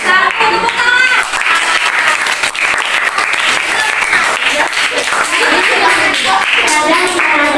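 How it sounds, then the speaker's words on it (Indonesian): A group claps in sustained, dense applause, loud and lively from start to finish, with voices mixed in under the clapping. "Tepuk tangan."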